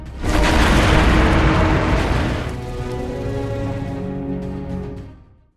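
A grenade explodes at a military post in a war film, a loud, close roaring blast that rumbles for a couple of seconds and then gives way to swelling music.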